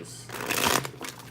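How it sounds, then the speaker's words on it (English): Tarot cards being shuffled by hand in a quick, close riffle of papery flutters lasting about a second, fairly quiet, with no talk over it. "2 more shuffles is what I got."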